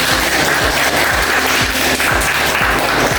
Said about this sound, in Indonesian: kita beri aplaus pada kelompok 2 yang telah memberikan